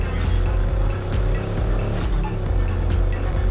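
Car engine hum from a vehicle driven in the video game Cyberpunk, running on a budget i3 10100F and GTX 1650 gaming PC, a steady mid-level drone with no talk over it.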